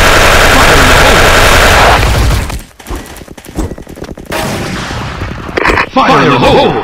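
FAMAS rifle fire in the shooter game Bull Soldier Front, Aurora FAMAS 2nd Gen: a loud sustained automatic burst that cuts off, then scattered sharper shots and game effects, with a voice briefly heard.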